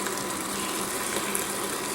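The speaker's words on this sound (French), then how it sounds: "Et je verse mon eau bouillante." Boiling water pours steadily over daisy and yarrow flowers for lemonade, a constant close gushing wash with no break and no voices.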